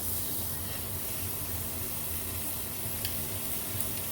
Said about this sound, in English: we're going to sear the beef on all sides, and we're going to use a very, very hot griddle to do it